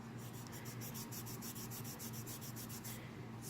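Sandpaper side of a nail buffer rubbed over copper jewelry, a steady close scratchy rasp in quick repeated strokes, with a low hum underneath and no talking.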